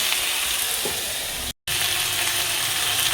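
Fish oil seasoned with salt and turmeric sizzles steadily in a pan as it is stirred, a dense close hiss that cuts out completely for a split second before resuming.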